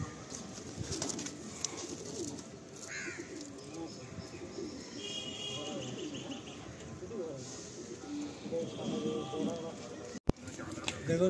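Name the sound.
pigeons in a loft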